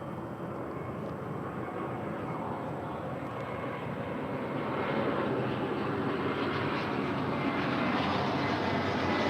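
JetBlue Airbus A321, six years old, arriving at LAX from JFK, a distant jet engine rumble that swells gradually toward the end with no talking.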